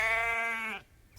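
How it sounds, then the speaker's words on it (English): A single long sheep bleat out in the snow, loud and close, with a wavering tone that fades out and then stops. "It's Farmer McColl's sheep"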